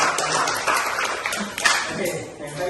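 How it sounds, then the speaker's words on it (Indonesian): A classroom of students claps for a classmate, a steady patter of many hands at moderate loudness with a teacher's voice under it. "berikan dulu aplaus buat teman yang lain"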